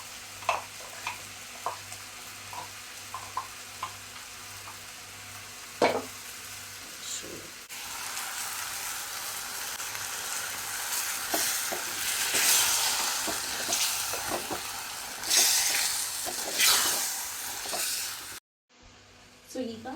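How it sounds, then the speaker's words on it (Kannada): Masala paste for chicken sukka fries in a pan and is stirred, giving a steady sizzle with the scrape and clatter of a spoon. The sizzle grows louder partway through and cuts out briefly near the end. "ನಾನು ಪೇಸ್ಟ್ ಮಾಡಿರೋ ಮಸಾಲ ಇದೆಯಲ್ಲ ಅದರ ಹಾಕ್ತೀನಿ"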